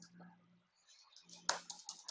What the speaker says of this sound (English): Keyboard is responding very bad. Typing 10.